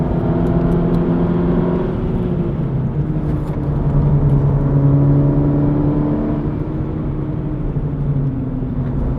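A SEAT Leon Cupra of about 280 bhp with a DSG gearbox pulls hard on a race track, its engine note droning and climbing steadily, loud and close, the revs rising then easing as the tone tails off near the top.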